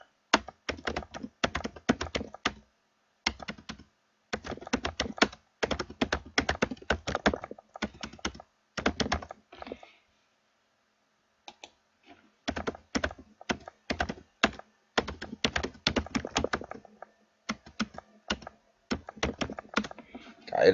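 Fingers type on a computer keyboard in quick bursts of close, crisp key clicks, entering a product name, with short pauses and one longer silent gap midway.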